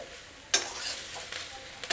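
A spatula stirs chopped green banana frying in a pan, with one sharp scrape followed by a soft steady sizzle and a few lighter stirring strokes, close and fairly quiet.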